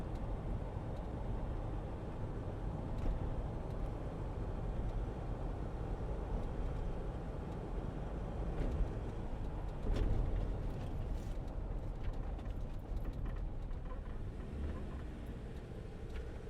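A 2014 Land Rover Defender 90 with a 2.2 TDCi engine, a short-wheelbase hard top, cruises in fifth gear, giving a steady low diesel drone and road rumble from inside the cabin, continuous and moderately loud with no talk.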